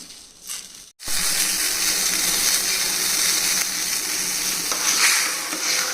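Salted water boils vigorously in a pot on the stove, a steady loud bubbling and hissing rush that starts abruptly after a brief quieter moment and continues without talk.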